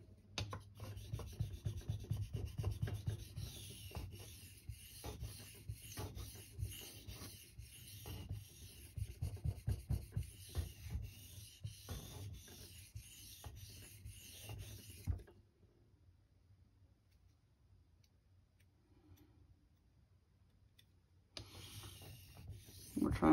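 A steel knife blade is drawn over a King Neo 800 whetstone, giving rhythmic, close scraping strokes in quick repeated passes for about fifteen seconds, then near silence before the rasping starts again.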